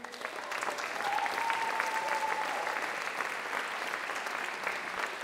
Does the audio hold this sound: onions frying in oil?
no